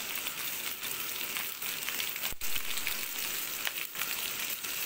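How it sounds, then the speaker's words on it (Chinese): Roast duck meat stir-fries in a wok with a steady, dense sizzle, broken now and then by a sharp clack of a utensil against the pan, close and unaccompanied by talk. "先把那个鸭肉炒香它"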